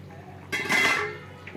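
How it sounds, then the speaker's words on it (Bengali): A metal lid lifted off a pan of simmering egg curry gives a short clattering clink with a ringing metallic tone, followed by a soft bubbling hiss that fades away, alone in a quiet kitchen. "এবার আমি ঢাকাটা খুলবো।"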